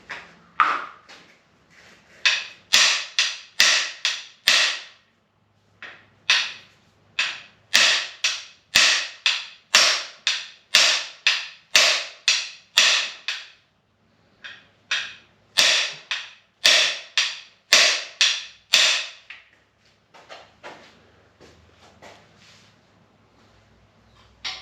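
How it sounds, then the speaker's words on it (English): Hammer blows while repairing a Bronco: dozens of sharp, loud metallic strikes in quick rhythmic bursts, pausing briefly between sets, with no talking. "I needed a bigger hammer"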